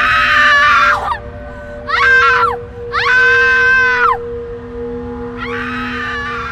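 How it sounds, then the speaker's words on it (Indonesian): A woman screams hysterically and cries on seeing her brother's body, with long, loud wailing bursts separated by short gaps, close and alone with no talk. "Sewaktu melihat mayat abangnya, adik perempuan Kinana menjerit histeris."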